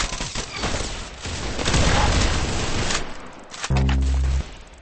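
Rapid gunshots from the Roblox Arsenal shooter game fire continuously and loudly for several seconds, followed by a short burst of game sounds, with no talking.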